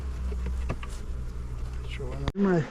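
Honeybees around an open hive in an apiary, a dense close buzz that fills the whole stretch, with a louder rising drone near the end as a bee passes close.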